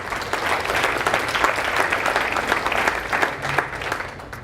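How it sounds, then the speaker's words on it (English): An audience at the 2018 T1D Summit, a type 1 diabetes conference, claps in sustained applause, many hands in a dense, even patter filling the hall with no voices over it. "Give yourselves a round of applause for being here today."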